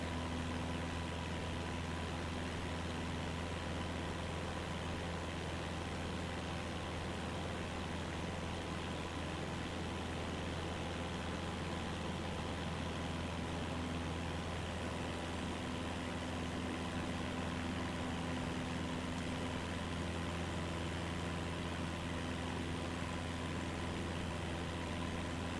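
An aircraft engine idles in Microsoft Flight Simulator 2024, a steady low drone with a constant hum that holds unchanged throughout, with no talking.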